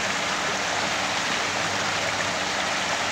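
A backyard waterfall spills over rock into a pond, a steady, full rushing of water close by with no voices.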